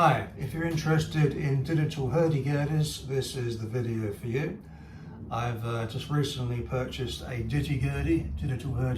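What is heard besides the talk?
No distinct noise like a dog, phone or traffic.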